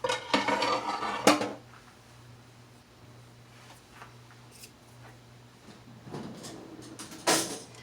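An apple cake pan slid into a home oven: a couple of loud metallic clanks and rattles at the start, a quiet stretch with a low hum, then more clatter as the oven door closes.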